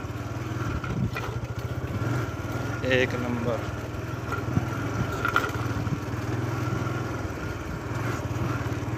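A motorcycle engine runs steadily nearby with a low, throbbing rumble, while a voice speaks briefly over it.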